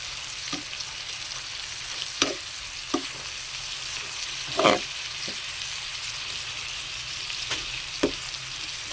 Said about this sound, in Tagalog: Para magisa natin bahagya yung ating kangkong guys.